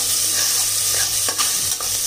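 Fenugreek seeds and washed lentils are stirred in a hot pan for nombu kanji, giving a steady, close sizzle with a few scraping stirs, and no voices.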